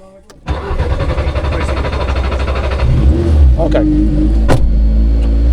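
A Škoda Fabia rally car engine catches and revs steadily as the car pulls away, a loud, close, sustained drone with a brief throttle surge midway and a sharp clack near the end, while a voice speaks briefly at the start.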